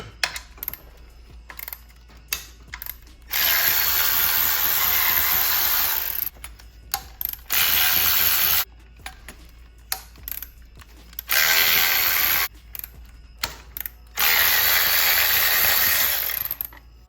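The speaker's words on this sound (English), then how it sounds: "I'm gonna take the skid plate off first before I do that. There are just some 10 millimeters under here." Power tool whirring in several bursts of a few seconds each, separated by short clicks and quiet gaps, as four 10 mm skid plate bolts come off a Suzuki DRZ400 motorcycle.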